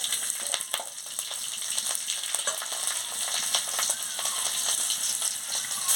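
Chili and poppy seed paste fries in a pan with a steady, dense sizzle and small popping crackles throughout, close and continuous with no talk.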